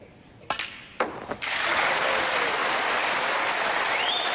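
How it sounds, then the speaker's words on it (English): A snooker arena crowd at the 2016 Welsh Open erupts after Ronnie O'Sullivan's century break: a few sharp claps, then a loud, sustained roar and dense applause filling the hall without letup. "listen for the roar when this pink disappears."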